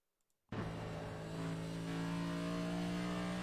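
After brief silence, a stock car engine in iRacing at Iowa bursts in loudly and keeps howling at a high, steady pitch that climbs slightly.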